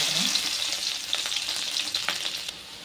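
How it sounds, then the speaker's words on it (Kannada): Crushed garlic fries and sizzles steadily in hot oil for a tempering, a dense bright hiss with a few small crackles and stirring clicks close by, no talk. "ಜಜ್ಜಿ ಇಟ್ಕೊಂಡಿದ್ನೆಲ್ಲ ಬೆಳ್ಳುಳ್ಳಿ ಹಾಕ್ತೀನಿ"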